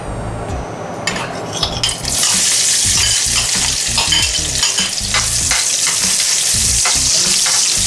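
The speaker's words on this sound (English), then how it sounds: "The oil is now hot and I'll put onion in." Onion dropped into half a cup of hot oil in a pan for a lamb samosa filling bursts into a loud, continuous sizzle, with repeated utensil scrapes and knocks as it is stirred.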